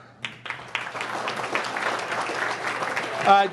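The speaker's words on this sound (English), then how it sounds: "Hold off on the applause." Audience applause at the 2021 InfoAge Wall of Honor ceremony during introductions of the board of trustees: a brief burst of clapping from a seated crowd that swells toward the end, with a voice over it.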